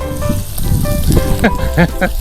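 Fish sauce and other sauce sizzle and spatter in a hot iron wok while people talk and exclaim over it, the crackling bursting in short loud pops.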